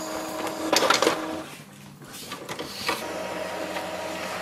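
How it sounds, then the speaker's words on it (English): An Epson WF-2850 inkjet printer prints a nozzle check sheet with a steady mechanical whir. The printhead carriage shuttles back and forth with brief louder rattles and clicks, close by, and no one talks. "So this will print the nozzle check sheet"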